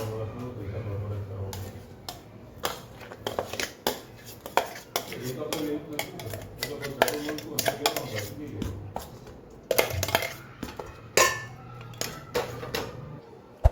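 Spice masala being scraped and transferred into a bowl, giving busy clinks and scrapes of a spoon against metal and dishes, with a voice talking over the clatter.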